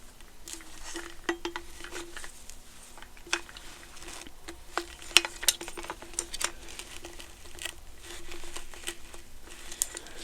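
A metal spoon scrapes and taps against the synthetic hair of an American Girl doll wig, giving faint, irregular crinkly scratches and small clicks at close range with no talking.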